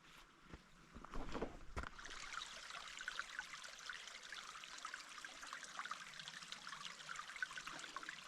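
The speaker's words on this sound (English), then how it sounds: "You can hear water running too." Small stream of running water flowing out of a desert canyon, a steady close trickle and gurgle after a few brief knocks at the start.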